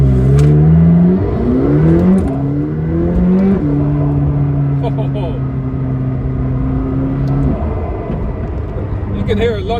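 McLaren 620R supercar engine heard from inside the cabin, droning and rising in pitch as it accelerates, with a sustained steady tone in the middle and the revs shifting again near the end.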